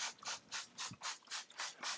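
A trigger spray bottle mists regular water over plaster wrap to saturate it, giving roughly eight quick, evenly spaced hissing sprays, close up and with no voices.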